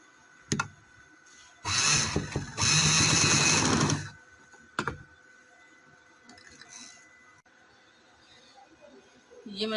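Sewing machine runs in two close, loud bursts of a couple of seconds each while stitching the sleeve seams of a full-sleeve winter garment. Quieter handling clicks and faint background noise follow.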